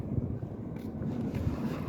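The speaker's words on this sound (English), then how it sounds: "That wind is so strong today." Strong wind buffets a microphone outdoors near water with seagulls, a steady, rough roar that runs unbroken and fairly loud throughout.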